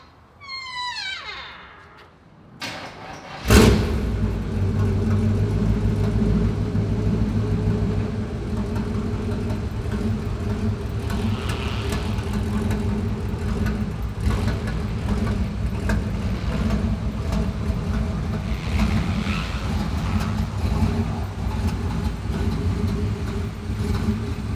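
A 1965 Chevrolet Impala, run again after sitting for over ten years, starts with a brief cranking stutter, then settles into a steady, loud engine drone while driving, with a low rumble that holds for the rest of the stretch.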